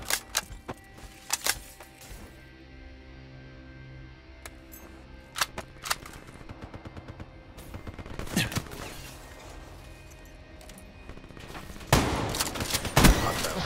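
A KRM shotgun fires during a competitive capture-the-flag video game match, heard as several sharp, loud blasts spaced across the scene, with scattered other gunfire and game noise in between and a denser burst of action near the end.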